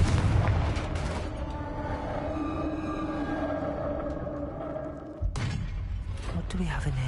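Confringo spell blast in the Hogwarts Legacy video game, a heavy booming explosion at the start that rumbles and rings out, followed by a second sharp burst near the end.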